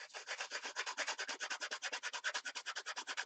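Quick rhythmic strokes of sandpaper rub down a high spot on a woodworking piece, about ten even scrapes per second, close and fairly quiet, with no voices.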